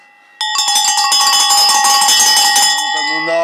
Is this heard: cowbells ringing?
yes